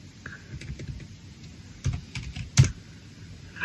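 Typing on a computer keyboard while coding MicroPython for an ESP32 board gives scattered, quiet clicks and taps, with a few sharper keystrokes standing out near the end.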